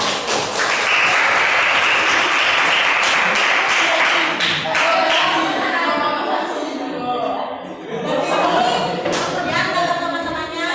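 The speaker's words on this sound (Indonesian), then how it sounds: "Tepuk tangan" A classroom of students bursts into loud, sustained clapping during a school guidance class session, with children's voices and chatter mixing in as the applause continues.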